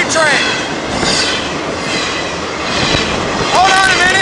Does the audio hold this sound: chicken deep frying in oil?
no